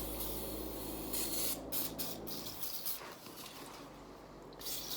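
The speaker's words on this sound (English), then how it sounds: "this is just a brake cleaner." Brake cleaner sprays steadily from an aerosol can in a long, loud, close hiss that continues for several seconds, with brief dips and small rustles where the spray pauses and restarts.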